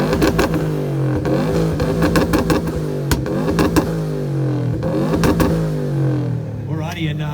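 A 2015 Subaru WRX sits in neutral while its engine is blipped in repeated sharp revs, the pitch rising and falling between bursts with crackling pops, close and loud, with a brief voice near the end.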